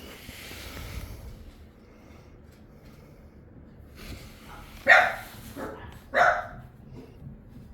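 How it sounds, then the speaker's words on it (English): Puppies playing indoors, giving two sharp, close barks near the end after a stretch of quiet rustling and low background noise. "Oh, my puppies are playing."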